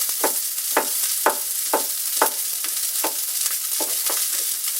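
A thick steak turned on its side sizzles in a cast iron pan, a steady loud crackling hiss broken by regular sharp spatters roughly every half second.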